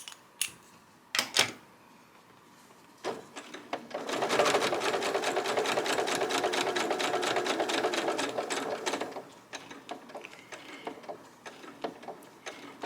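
A sewing machine stitches quilt pieces in one steady run of about five seconds, preceded and followed by scattered mechanical clicks and taps from handling the machine, close and fairly quiet, with no talking.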